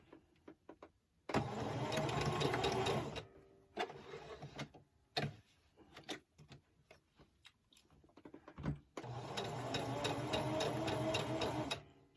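Home sewing machine stitching the lining and outer layers of a doll dress together around the armhole on a narrow zigzag width, running in two steady whirring bursts separated by quiet handling pauses and clicks.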